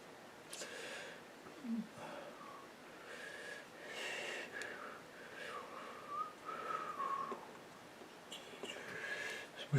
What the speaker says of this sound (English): Whistling away here.